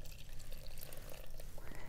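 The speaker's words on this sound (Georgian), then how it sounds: "ვასხამ წყალს" Water poured by hand into flour while making pizza dough, a soft, continuous trickle with faint splashes, quiet and close, with no talking.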